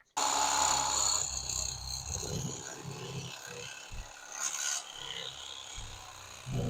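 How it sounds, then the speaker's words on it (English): A knife drawn along a pike while filleting, a close rasping scrape that runs continuously with short pauses and catches, fairly loud and steady, with no voices. "You're going to fillet right along here and come up at this point right here."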